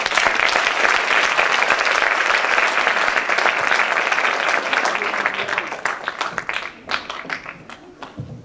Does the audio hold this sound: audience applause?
yes